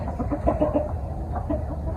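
Large local desi hens and Tiger chickens cluck close by in a farmyard, with repeated short, throaty clucks over a low rumble of background noise.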